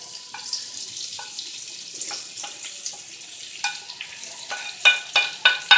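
Bhindi and masala fry in a pan, an ongoing crackling sizzle with scraping stir strokes and short clinks of a utensil against the pan, close and lively, growing sharper toward the end.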